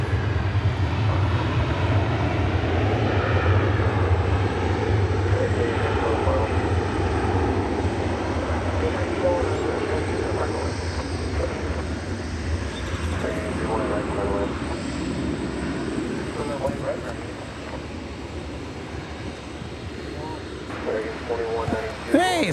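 A large airliner on its arrival at DFW Airport makes a broad, sustained engine rumble and roar that stays loud throughout, with people talking over it.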